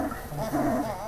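A Saluki, a greyhound relative bred for desert racing in a Syrian village, whimpering in a soft, wavering whine with faint low growly undertones, close by.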